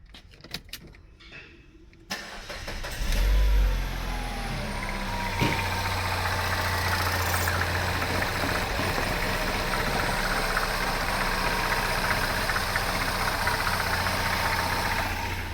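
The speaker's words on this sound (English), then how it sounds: "Alright, the car's running." A Peugeot 308 with a newly installed fuel pump cranks briefly after a few key clicks, catches and settles into a steady, close idle with a low engine drone for the rest of the time.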